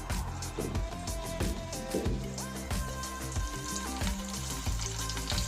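Steady crackling sizzle of okra frying in hot oil, continuous and close, with a background of music running throughout.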